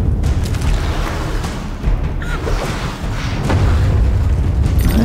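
Loud, dense audio from Alice: Madness Returns with a steady roar and low booming thuds throughout, like cannon fire amid constant rumbling action.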